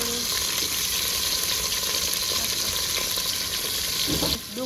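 Chopped onion frying in oil for a homemade Gujarati country-style vegetable dish, a loud steady sizzle running throughout with faint stirring, dropping away abruptly at the end.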